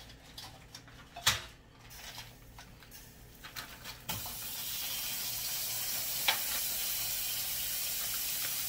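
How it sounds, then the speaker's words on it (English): A few clanks and handling knocks give way to water pouring steadily into a pot, a continuous rushing stream that holds for several seconds at moderate loudness, with no talking. "I might just pour the water in there instead of bringing it out here"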